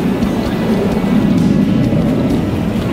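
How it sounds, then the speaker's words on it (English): Aircraft engines droning overhead during an air show beside a busy canal, a steady low rumble that holds at even loudness throughout, with no talk. "hear the uh, airplanes"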